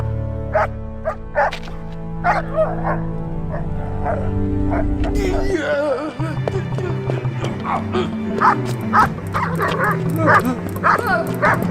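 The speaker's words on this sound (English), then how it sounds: "Dog." A dog barks and yips repeatedly in short bursts, loud and close, with whimpering notes mixed in over a droning low background.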